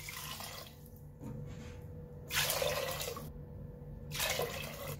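Water is poured onto chickpeas in a pressure cooker, heard as two distinct bursts of splashing water with quieter dripping and handling between them, close by and fairly soft.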